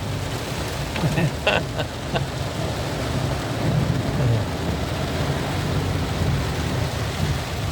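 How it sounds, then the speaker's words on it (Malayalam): Heavy rain drums on a moving vehicle during a downpour in Nilambur and Wandoor, a dense continuous patter with a few sharper knocks early on. "നല്ല മഴയാണ്"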